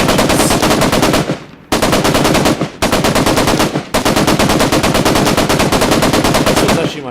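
A PKM machine gun in the Global Mobilization video game fires long, loud sustained bursts of rapid automatic shots, with three short pauses between the strings of fire.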